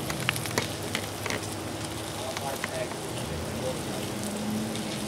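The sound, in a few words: okra frying on a Blackstone griddle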